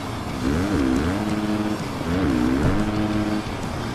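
Dirt bike engine in the Monster Energy Supercross racing game, a steady buzzing motor with rising and falling revs as the bike speeds up and shifts, loud and continuous with no talk over it.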